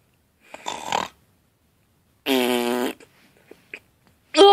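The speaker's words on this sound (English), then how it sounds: "Did I fart myself awake again?" A cartoon fart sound from a sleeping Godzilla, a loud droning burst with a snore-like rumble before it, followed by faint rustles and a fresh sound starting at the end.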